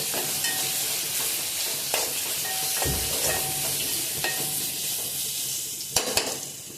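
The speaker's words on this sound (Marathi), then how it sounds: "सर्व वाटण टाकून घेते आणि हलवून घेते आता हे छान परतून घ्यायचं" Ground masala paste for a green moong curry sizzles steadily in a pan, with scattered scrapes and knocks of stirring and a louder clatter near the end; no one speaks.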